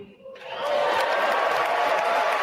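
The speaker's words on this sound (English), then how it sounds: "Oh, and then the claps." An audience breaks into applause and cheering after a brief quiet moment, the clapping swelling into a steady, dense roar that holds to the end.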